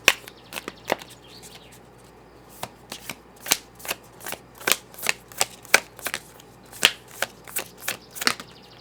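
A tarot deck is handled and shuffled while a card is drawn, producing a rapid series of crisp, close card snaps and flicks in an irregular rhythm over a quiet background.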